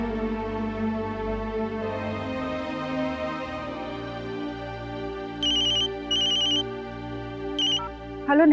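An outgoing telephone call rings in a Hindi TV drama scene, a few short, bright ringback bursts sounding over soft background music.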